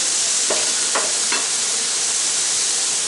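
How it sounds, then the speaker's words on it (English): Jalapeño onion smash burgers sizzle steadily and loudly on a hot Blackstone griddle, with a few brief scraping strokes early on. "Let them sizzle for a little bit."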